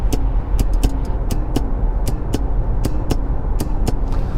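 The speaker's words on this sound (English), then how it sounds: "there's this device, the ring, that secures the reverse gear so you don't put it into reverse accidentally" Reverse lock ring on a Renault Kadjar gear lever, a series of short sharp clicks at an uneven rhythm, about a dozen over four seconds, close up above a steady low rumble from the car.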